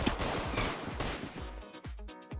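A gun in Roblox Arsenal fires a rapid burst of sharp shots, loud and close, then a few spaced single shots trailing off with short ringing tails.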